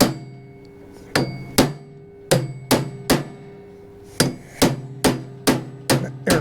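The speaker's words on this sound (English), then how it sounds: "Let's try a bigger hammer. Sometimes a little more of a dead blow is what it takes." A bigger dead blow hammer strikes a stuck part on an Ariens ST824 snow thrower being refurbished, with about a dozen loud, sharp blows coming in quick uneven bursts with short pauses.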